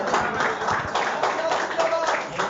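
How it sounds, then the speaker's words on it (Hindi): A crowd at a Kushwaha Foundation oath ceremony claps in welcome, a dense patter of hands ringing out for a few seconds in a hall, with a voice mixed in. "जोरदार तालियों के साथ स्वागत करेंगे।"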